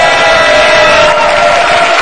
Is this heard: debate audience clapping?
yes